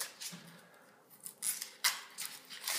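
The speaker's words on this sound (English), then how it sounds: "There, that's how you peel an onion." Dry papery onion skin peeled back by hand in a kitchen gives faint crisp crackles and rustles in short bursts, close and quiet, without talk.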